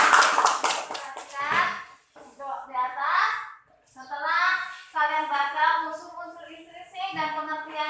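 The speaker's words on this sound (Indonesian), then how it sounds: "Tepuk tangan untuk temannya." Classroom of children clapping for a classmate, a quick burst of hand claps at the start followed by children's voices chanting and talking in a lively rhythm.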